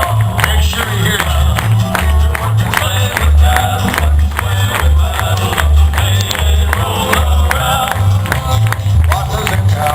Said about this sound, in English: Just clap your hands right along with old Max as he spins that rope.